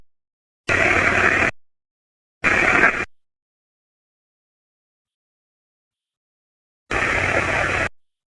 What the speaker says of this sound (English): with the Necrophonic, it actually comes right through the Bluetooth speaker. I'm going to show you the white noise.